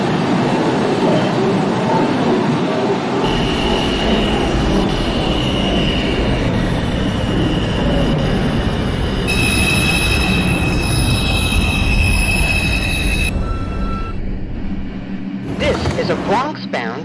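A New York City 2 express subway train rumbles along in the OpenBVE train simulator game, loud and constant, with wheel squeal and screeching metal tones rising over the roar, plus a clattering burst near the end.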